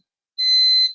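A sari-sari store alarm sensor sounds a single loud, piercing electronic tone that switches on abruptly and holds steady for about half a second before cutting off.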